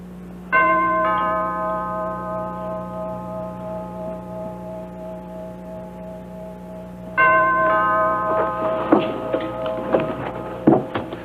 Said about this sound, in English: Because the doorbell's ringing.